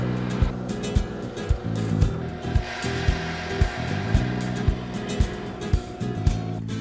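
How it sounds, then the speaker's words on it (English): A drill bores a hole through a wooden board, its motor whirring steadily and loudly with regular thumping knocks roughly every half second as the bit bites into the wood. "Drill a hole through the board at those spots for the bolt"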